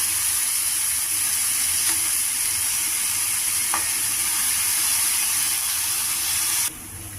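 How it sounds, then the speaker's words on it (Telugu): Bottle gourd pieces, boiled beforehand, are stirred into a sizzling tomato curry, with a steady broadband frying hiss throughout and a couple of faint scrapes, ending in a quieter drop near the close. "ఇప్పుడు మనం ముందరగా ఉడకబెట్టుకున్న ఆనకాయ ముక్కలు బాగా ఉడికాయి ఇవి కూడాను ఇవి కూడా మిక్స్ చేసుకోవాలి"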